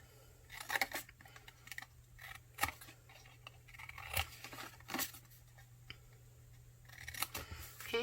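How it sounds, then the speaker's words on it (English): Scissors snip through paper up to a score line while a gift box is made, giving a series of short, crisp, close cuts with small rustles and handling sounds between them. "cut up on that score line up to the score line"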